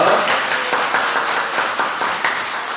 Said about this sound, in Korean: 이 자리를 마련하신 하나님께 우리 영광의 박수 한번 더 올리겠습니다